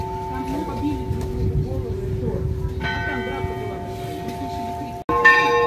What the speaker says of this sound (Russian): Немного колоколов вам.